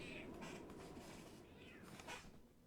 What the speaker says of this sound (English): Oh, you fussy cat.